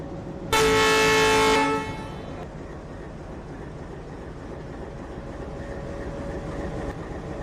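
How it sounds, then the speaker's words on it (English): A loud, sustained train horn blares for over a second, then cuts off, leaving a steady rumbling engine and rail noise. "Let's warn the passenger by honking a horn"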